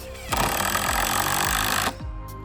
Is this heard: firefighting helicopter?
no